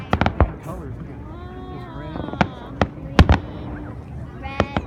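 Sharp cracks and booms from Canada Day fireworks at Steveston in Richmond come in scattered bursts, several close together, while people chat and react over them.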